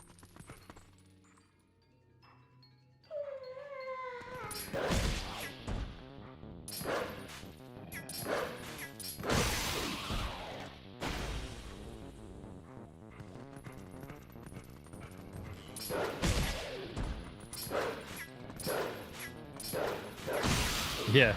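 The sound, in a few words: dog barking in its sleep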